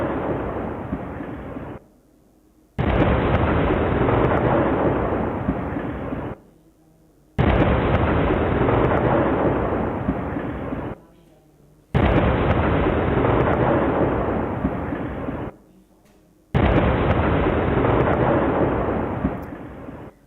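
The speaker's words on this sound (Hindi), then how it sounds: "धमाका सिहरन पैदा कर देने वाली, डरा देने वाली ये आवाज़ आप सुन रहे हैं।" Four loud, abrupt explosion blasts in Kashmir repeat at regular intervals, each a sudden roaring burst that lingers for a couple of seconds before cutting off.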